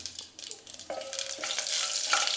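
Urad dal dry-roasting in a pan for sambar, with a steady stir-fry sizzle and the scrape of a spoon that builds gradually, close and alone with no voices.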